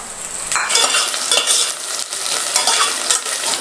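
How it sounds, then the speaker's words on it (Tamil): Onion and curry leaves fry in a pan with a loud, continuous sizzle and hiss, with light scraping and stirring against the pan throughout. "வெங்காயம் கூட ஒரு 2 கொத்து கருவேப்பிலை இதே ஆட் பண்ணிக்கலாம்"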